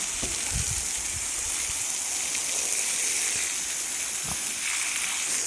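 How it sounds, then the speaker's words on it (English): Steady hiss of water gushing from a garden hose pipe into a pig wallow on a farm, continuous and close, with occasional soft knocks and thumps beneath it. "I literally just went to switch the hose pipe on"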